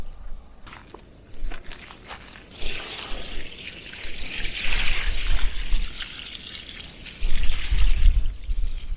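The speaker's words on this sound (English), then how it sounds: "now I'm going to give it a good soak of water" Water pours and splashes steadily onto soil and leaves, building to a heavier gush near the end, with a few faint taps and rustles before it starts.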